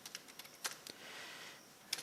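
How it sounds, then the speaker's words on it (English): Scattered clicks of a computer keyboard as data is typed into a mail merge form in MS Word, a few quiet isolated keystrokes with gaps between them, faint and close. "Now let me start typing the data"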